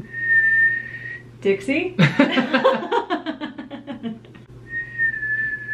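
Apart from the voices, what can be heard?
person whistling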